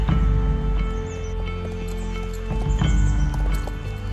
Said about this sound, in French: Attends, regarde, c'est un cheval.